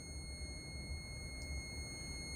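A steady, high electronic beep from a small fuse tester checking a working fuse on a Can-Am Ryker, continuous over a low background hum.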